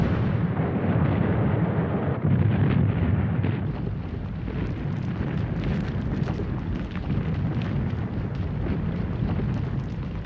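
World War I artillery fire in a sustained, dense rumble of blasts and booms, loud and continuous with no clear gaps between shots.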